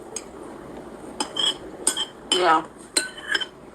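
A serving spoon scrapes and clinks against a bowl during eating, several short scraping bursts and metallic clicks at close range, with a brief spoken word.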